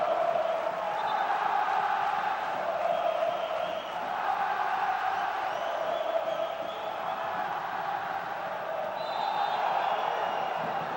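Vasco supporters fill a Brazilian stadium with a steady, unbroken roar of crowd noise during a 2012 Campeonato Brasileiro match against Palmeiras, the sound swelling slightly without pause.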